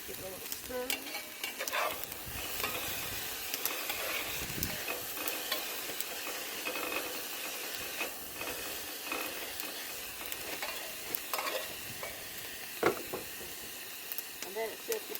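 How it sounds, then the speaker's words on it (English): Meat frying in a pan at a camp stove during Jeep camping in an abandoned silver mine, a steady sizzle broken by scraping stirs and clinks throughout, close and loud. "we're going to go ahead and put that in. With meat. Give it a little stir."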